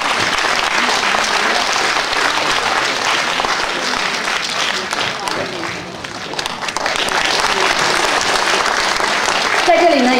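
Sustained, dense applause fills a choir concert hall as the audience welcomes the conductor. The loud clapping stays steady and unbroken throughout.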